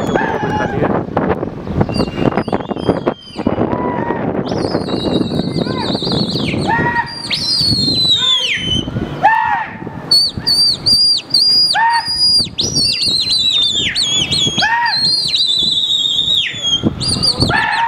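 Pakistani racing pigeons circle overhead during a pigeon race, their wings flapping in bursts while high, repeated whistling chirps sound throughout, with a busy outdoor crowd murmuring underneath.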